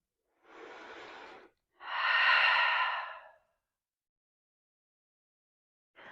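Deep, slow breathing during a gentle yoga flow, a soft inhale followed by a longer, fuller exhale heard close and alone, with another breath beginning at the end.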